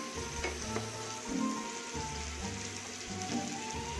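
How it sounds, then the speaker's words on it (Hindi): Food fries in leftover tuna fish oil with a faint, steady crackling sizzle and occasional soft stirring clicks, quiet and close with no talking. "इसमें इसलिए फ्राई कर रही हूँ क्योंकि फिश का जो ऑयल है"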